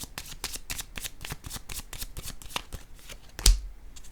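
Tarot cards are shuffled by hand in a steady run of crisp riffling flicks, followed by a single louder slap as a card is drawn and laid down near the end.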